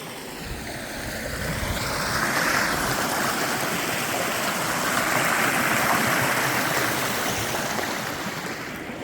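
Steady rushing of a flowing creek, broad and continuous, with no voices over it.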